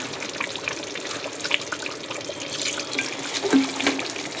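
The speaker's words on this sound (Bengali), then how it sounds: "অল্প একটু দেবো গোলাপ জল, আর একটু দেবো কেওড়ার জল," Rose water and kewra water are poured into chicken chaap in a steady, gentle liquid trickle that lasts the whole moment, close and fairly clear.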